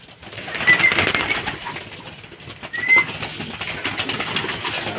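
Racing pigeons arriving at a loft, with soft cooing, brief chirps and wing flutters over rustling outdoor background, a couple of louder bursts near the start and middle.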